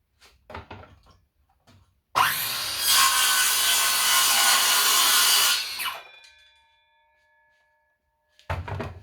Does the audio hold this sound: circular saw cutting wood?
yes